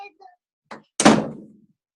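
A door slams once with a heavy close thunk during an interview, preceded by brief faint voices and a lighter knock.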